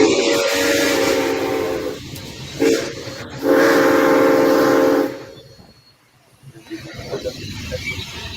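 A loud, sustained train whistle blows in long blasts over the rumble of a moving train in downtown Chattanooga, then fades to rolling wheel and engine noise.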